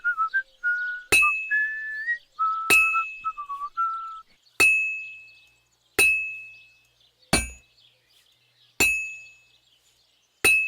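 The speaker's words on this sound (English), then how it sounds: "So what, we just gotta hammer each side?" A blade is hammered at a blacksmith's forge in Kingdom Come Deliverance 2, giving six sharp metallic clangs at a slow, even pace, each ringing out briefly, with faint whistling between the first strikes.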